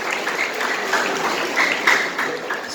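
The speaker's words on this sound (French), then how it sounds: "Sous vos applaudissements, s'il vous plaît." A church congregation at a Sunday service claps steadily, a dense, fairly loud wash of many hands that keeps up throughout with no voices over it.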